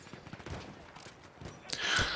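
Gunfire in the video game Battlefield 1, with scattered muffled shots and bursts that grow into a louder, denser volley at the end, heard over quiet background noise.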